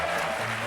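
Studio audience applause on a French TV game show, a dense steady wash of clapping held at even loudness through a brief burst.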